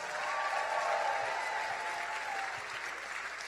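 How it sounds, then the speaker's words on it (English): An audience at a political rally in Atlanta applauds itself, a steady wash of clapping that fades slightly toward the end, with a faint voice heard briefly under the noise. "Now I want y'all to give yourselves a round of applause"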